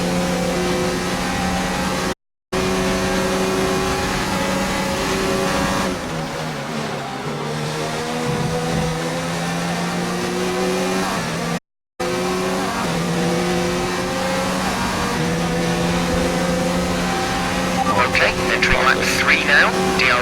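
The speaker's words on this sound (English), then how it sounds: "look at that engine power and drag" Formula 1 car engines from the F1 2019 racing game roar steadily throughout, with sustained high-pitched revving, gear changes and a brief dip as the cars slow, while a commentator talks over the racing.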